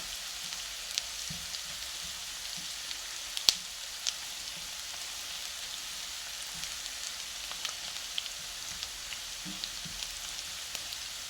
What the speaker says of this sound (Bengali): লাল করে ভেজে নেব বেশি ভাজতে হবে না অল্প একটু রং পরিবর্তন হলেই